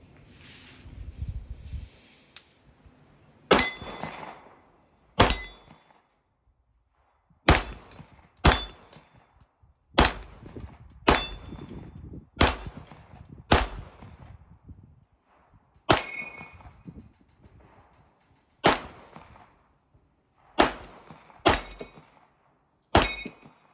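A Flux Raider blaster is fired and reloaded up close, giving about fifteen sharp clacking shots at uneven intervals, with brief mechanical rattles between them.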